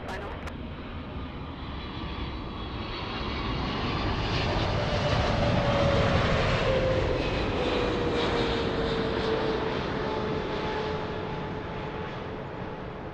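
An airliner on short final to land on runway 24 right at LAX swells into a broad jet roar that peaks mid-clip and fades slowly, with a descending whine and faint radio chatter beneath.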